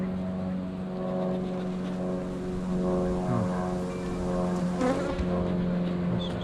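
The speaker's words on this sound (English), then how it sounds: "Lots of bees in there, they're just falling." Bees drone inside an open hive, a close, steady, tonal hum with a few sharper buzzes as individual insects pass near.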